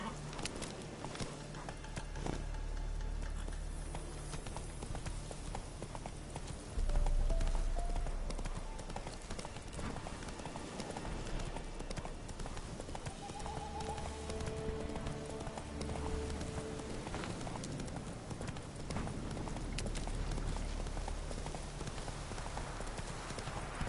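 Horse hooves clip-clopping at a steady gallop rhythm in the Witcher 3 video game, continuous and fairly loud over a constant game ambience, with a brief louder burst partway through.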